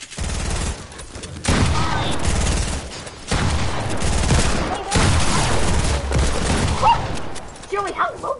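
Rapid bursts of automatic gunfire in an online squads shooter game, loud repeated volleys broken by short pauses, with players talking over the shots and a faint dog-like bark near the end.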